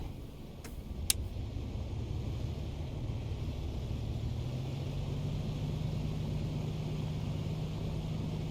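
Piper Comanche 250 light aircraft engine catching and settling into a steady idle in a flight simulator at an airfield, a low continuous drone after a couple of brief clicks.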